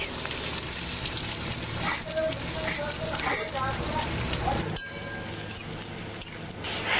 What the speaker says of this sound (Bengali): তাতে অ্যাড করে দেবো আমাদের আগে থেকে কাটা পেঁয়াজ